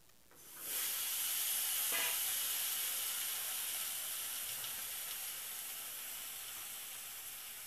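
Potatoes dropped into hot oil left over from frying fish, a sudden loud sizzle that settles into a steady hissing fry and fades slowly, with no talking.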